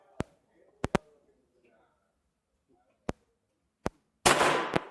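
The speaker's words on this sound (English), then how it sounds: "So go ahead and shoot 8 more rounds" Ruger Mark IV Lite pistol fired at a shooting range: six sharp, loud reports spaced irregularly across a few seconds, with faint talk between shots and a burst of broadband noise near the end.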